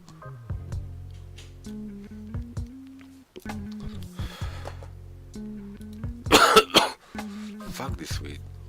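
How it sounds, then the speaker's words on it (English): A burst of harsh coughing and throat clearing from someone smoking weed breaks out midway, surrounded by speech and electronic tones. "Makes me cough."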